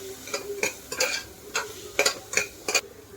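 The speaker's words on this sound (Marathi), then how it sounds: "कांदा थोडासा परतून घ्यायचा" Chopped onion sautés in a pressure cooker for pasta. A spoon scrapes and stirs in quick regular strokes over a soft sizzle, close up and moderately loud, with no speech.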